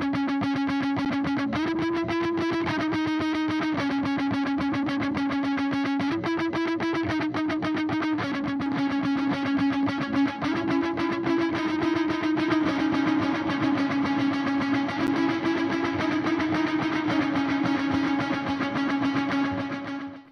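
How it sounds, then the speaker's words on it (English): Sustained electric guitar notes and chords through chorus, delay and reverb pedals, washed in shimmer, echo and spacious reverb, playing steadily and loud with no voices. "I turn on the chorus pedal and then I'll engage the delay and the reverb as well"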